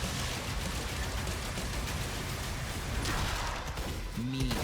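Heavy gunfire and combat noise from the video game DOOM: The Dark Ages, a dense, continuous barrage of shots and crashing impacts layered with rumbling music, loud throughout.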